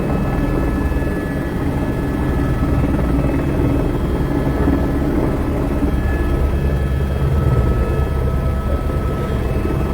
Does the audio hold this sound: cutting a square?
no